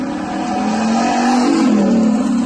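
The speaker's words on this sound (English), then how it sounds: "here's a video of my car, my real car, going and doing a flyby." A real car makes a flyby, its engine note climbing and swelling loudly as it passes close, with a steady mid-pitched drone that rises in pitch, then settles.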